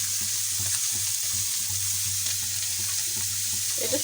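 Small fish, shrimp, mola and chela, fry lightly in a pan with a steady, soft sizzle, occasional stirring scrapes, and a low background hum.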